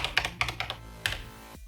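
Keys clack on a TI-99/4A home computer fitted with a new modern keyboard PCB, a quick, irregular run of close, crisp keystrokes and then a short pause.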